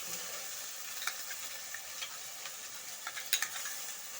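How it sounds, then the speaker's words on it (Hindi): Garlic, onion and ginger paste fries in hot oil in a pan while cooking chhole, a soft steady sizzle with faint occasional stirring clicks, no talking. "अब इसमें हम ये लहसुन, प्याज और अदरक का जो पेस्ट मैंने डाला है वो मैं डाल के रोस्ट कर लूँगी"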